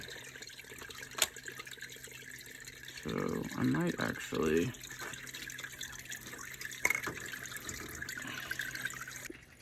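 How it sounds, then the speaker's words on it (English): Water trickles and splashes in a small hydroponic seed starter being tightened shut, with a few seconds of gurgling and dripping. A voice speaks briefly close by. "Note that there is a little bit of water splashing out."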